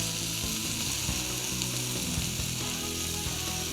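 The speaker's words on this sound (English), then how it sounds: "the final side will cook for 2 minutes, and then the steak will be done" A steak sizzles loudly in a hot pan or on a grill while frying on its final side, a dense, steady crackle and hiss with no pause and no voices.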